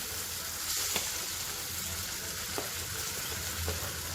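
Roasted, mashed eggplant sautés with ginger and garlic in a pan for bharit, giving a soft, steady sizzle with a few faint spoon scrapes, close but fairly quiet, and no talking.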